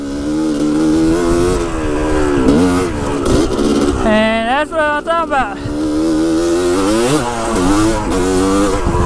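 A dirt bike engine fitted with a Lectron carburetor revs hard and close in third gear, pitch climbing then dipping as it pulls through the gear, with someone talking over it.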